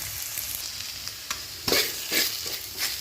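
Sliced ivy gourd fries with turmeric and a dry-roasted ground spice powder as it is stirred in a pan, a steady close sizzle broken by several sharp scraping strokes of the spoon.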